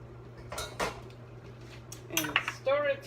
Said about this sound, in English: Now we put the beans back in.